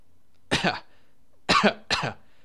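Three dry coughs, close and fairly loud: one single bark, then a quick pair a moment later, with silence in between.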